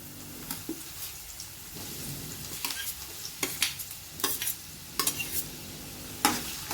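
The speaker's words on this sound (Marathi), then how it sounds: "त्यात आता आपण टोमॅटो टाकूया." Chopped tomato hits onions already fried reddish-golden in a hot pan, giving a soft steady sizzle broken by several sharp stirring scrapes and clacks, with no talking.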